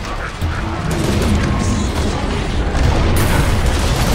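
A loud, continuous roar of explosions and gunfire fills a Killing Floor 2 match in the Catacombs map, dense rumbling blasts with little pause and a sharper burst near the end.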